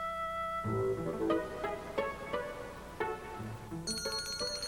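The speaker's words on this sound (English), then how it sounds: "That's the dinner bell." A dinner bell rings in a cartoon fairy tale, several bright metallic chimes struck in a short irregular sequence over a soft musical background, with a higher glittering flourish at the end.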